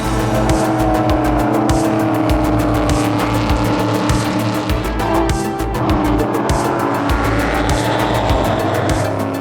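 Race car engines scream at high revs past a listener on the Road America circuit, loud and continuous, with rapid gear-shift pulses and some tire noise.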